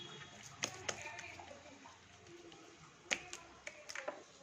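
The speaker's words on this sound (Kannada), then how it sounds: "ನೀರು ಹಚ್ಕೊಂಡು ಮತ್ತೆ ಮತ್ತೆ ತಟ್ಟೋದು" Wet hands patting roti dough, dabbed with water between strokes, giving a few sharp, soft slaps scattered over a quiet kitchen background, close and fairly faint, with no one talking.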